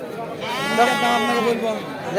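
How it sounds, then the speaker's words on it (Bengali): A young goat gives one long wavering bleat at a busy goat market, close and clear, with faint crowd chatter behind it. "দেখতে পাচ্ছেন অনেক ছোট ছোট ছাগল"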